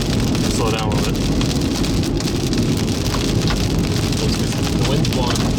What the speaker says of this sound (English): Bullet hail. We're not hitting the car that bad yet.